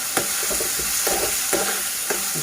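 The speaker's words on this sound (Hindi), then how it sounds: "उसको मैंने चॉप करके अब फ्राई करने के लिए डाल दिया है। उसके बाद हम इसको इस तरीके से भूनते रहेंगे" Chopped onions fry in a pan with a steady broadband sizzle, while a utensil stirs them in regular scraping strokes about every half second. The sound is close and moderately loud, with no talking.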